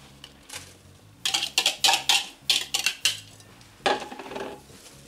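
A spoon clinks and scrapes briskly against a bowl while grated carrot is stirred into eggs, a run of sharp metallic taps in quick bursts, close and fairly quiet, with pauses between strokes.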